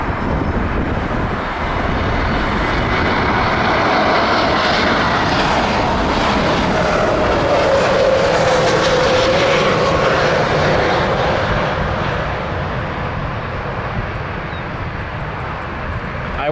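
A jet airplane takes off at Toronto Pearson airport with a loud, continuous engine roar that swells and holds for many seconds, a broadband rumble with a rising whine.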